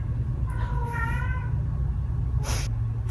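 A cat meows a few times, harmonic cries rising and falling close to the microphone, with a brief sharper sound near the end over a steady low indoor hum.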